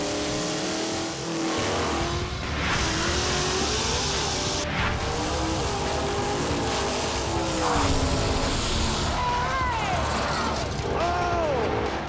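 Mopar cars drag racing at Indy produce a loud, continuous engine roar with rising revs and shifting tones across the run, heard close and dense throughout, with crowd or commentary voices mixed underneath.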